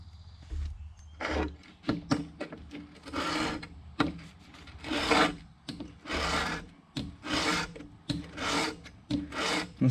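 A blade drawn in repeated strokes across a wetted two-sided whetstone, coarse side then fine, gives rhythmic rasping scrapes, close and fairly loud, about a dozen in steady succession with short pauses between.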